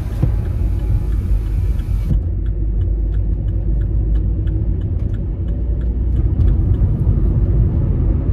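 Vauxhall Corsa driving on a motorway, heard from inside the cabin as a loud, steady low engine and road rumble with constant tyre roar and a brief change in tone early on, no talking.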